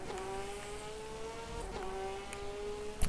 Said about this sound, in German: Das wird ein Hypercar, das uns überholt.